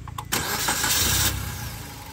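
A Maruti Suzuki Swift petrol hatchback's K12 engine cranks briefly and catches, then settles into a smooth, fairly quiet idle heard close up with the engine bay open.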